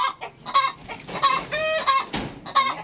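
Several chickens cluck close by in a quick series of short, nasal calls with a few drawn-out notes, loud and clear with no talking.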